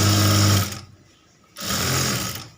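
Sewing machine stitching a seam on a princess-cut blouse, a close, loud whirring run that stops for about a second and then starts again.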